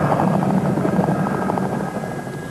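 Chinook helicopters in a desert setting give a steady, loud rotor thrum with a dense low churn and a constant engine whine, holding level for the whole stretch with no voices.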